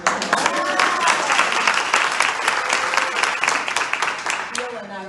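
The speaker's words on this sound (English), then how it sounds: "you can give her a round of applause." An audience applauds at the presentation of the 2022 Status of Women in Westchester report, a loud, sustained roll of many hands clapping, with a few voices briefly heard over it.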